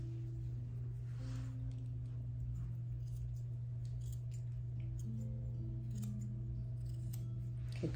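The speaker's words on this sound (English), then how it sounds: "I'm going to clip off the edges around the ears, right up to the ear leather" Scissors clip the fur around the ears of a Schnauzer-type dog in a heavy coat, producing faint, scattered snips beneath a steady low electrical hum, with no talking.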